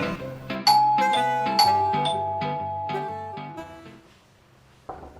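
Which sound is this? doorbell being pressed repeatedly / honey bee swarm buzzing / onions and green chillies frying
doorbell being pressed repeatedly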